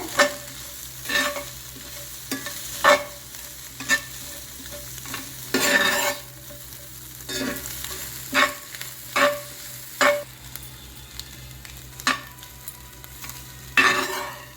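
Fried chicken being stirred into Guntur chicken 65 masala in a pan, repeated scraping and clinking utensil strokes at an uneven rhythm over a continuous sizzle, close and fairly loud.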